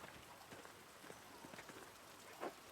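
Faint, even rain patters down in the video game Pentiment, with soft scattered drops across a quiet, steady wash.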